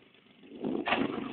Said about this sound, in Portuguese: do meu escapamento, barulho demais, se perturba muito